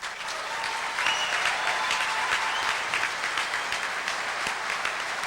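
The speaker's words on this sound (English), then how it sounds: "I appreciate your applause" A crowd at an NRA annual meeting applauds loudly and continuously, dense sustained clapping filling the hall with no speech over it.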